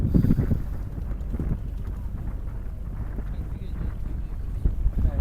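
A small boat rides a fast-flowing river in the monsoon, its rumbling, wind-buffeted drone continuous and close, with gusts of wind noise striking the microphone throughout.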